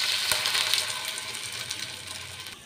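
Gourd pakoras fry in hot oil, a steady close sizzle with crackling hiss that fades slightly over a few seconds, with a faint clink near the start.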